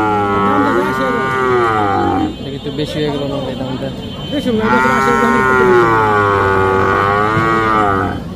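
Calves mooing at a cattle market in Bangladesh, two long loud bellowing calls close by, with a voice talking over the gap between them.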